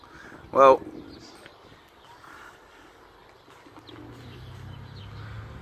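Young racing pigeons in a loft, a single loud close coo near the start followed by quieter ambient rustling and faint background noise.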